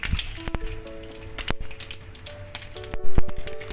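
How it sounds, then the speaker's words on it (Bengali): Black mustard seeds and half a dried chilli tempering in hot mustard oil in a wok give a light crackle and sizzle, joined by a few sharp clinks and a brief tonal ring, close by. "কড়াতে সর্ষের তেল গরম হয়ে গেছে এতে আমি একটু কালো সর্ষে ফোড়ন দিলাম আধখানা শুকনো লঙ্কা ফোড়ন দিলাম"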